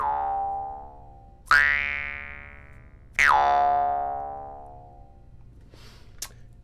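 Dry, unprocessed synth tones played through a Befaco Instrument Interface: two loud plucked, boing-like notes with bright attacks that bend and slowly decay, then a brief faint click at the end.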